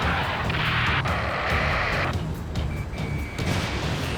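Rocket explosions and gunfire in the Ace Combat 7 video game, a loud sustained roar of blasts and crackling shots with sharp bursts and a thin electronic tone partway through.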